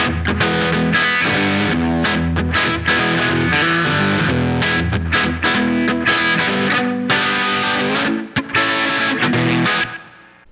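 Distorted electric guitar set up with spring reverb plays a loud, driving riff with choppy rhythmic stabs, ringing out and fading at the end.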